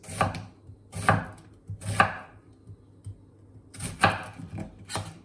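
A knife slices an onion on a cutting board in five crisp, evenly spaced chops, each a sharp thud against the wood, with short pauses between them and a gap before the last two.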